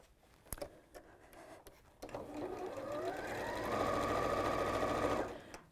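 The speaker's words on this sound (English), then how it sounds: "And then we'll sew all the way around the edge." A sewing machine stitches around the edge of a fabric piece, starting after a few soft handling clicks and running steadily, close and loud, for several seconds before stopping.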